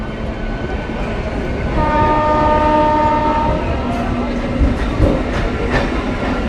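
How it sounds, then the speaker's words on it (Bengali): A special passenger train pulls into Krishnanagar City Junction station on the Amghata–Krishnanagar line. Its horn sounds as a loud, steady, sustained blare with tonal layers, and the rumble of the approaching wagons runs underneath and grows toward the end. "কৃষ্ণনগর সিটি জংশন রেল স্টেশনে প্রবেশ করলো Amghata Krishnanagar inaugural special train"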